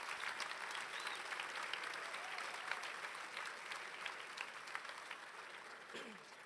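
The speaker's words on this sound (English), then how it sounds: "So give yourselves a round of applause." A conference audience at a closing session applauding, a dense, steady wash of many hands clapping throughout, heard at a moderate distance and fading slightly at the end.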